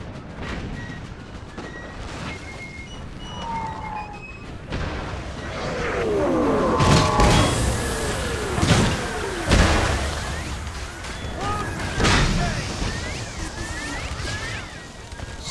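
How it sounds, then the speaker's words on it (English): Artillery cannon fire in a NTW ACW Total War battle: repeated heavy booms and crashes land at irregular intervals, some near and loud, with whooshing shells and scattered battlefield noise between them. "Some artillery devastation."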